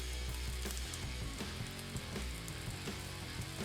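Pork belly frying in a pan, a steady close sizzle with soft crackles running throughout, with no talking.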